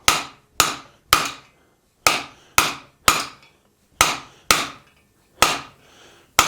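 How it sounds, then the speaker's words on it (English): About eleven sharp, evenly spaced wooden chops ring out close and loud, each dying away quickly, as a guillotine tool cuts a tenon into the end of a wooden piece. "butcher in using the guillotine tool"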